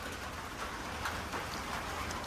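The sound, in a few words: rain falling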